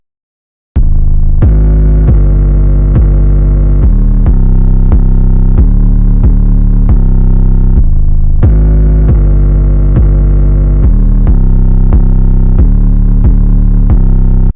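A heavily distorted 808 bass pattern throbs loudly in a beat, with sustained buzzing notes in a repeating rhythm, some hitting harder than others, alone without voices.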